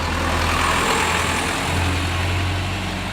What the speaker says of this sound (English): Just watch the truck.